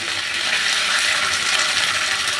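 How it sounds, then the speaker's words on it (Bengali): Curry leaves dropped into hot oil with fried mustard seeds crackle in a steady, dense sizzle that stays loud and continuous from start to finish, with no voices. "কিছুটা কারি পাতা দিয়ে দিচ্ছি"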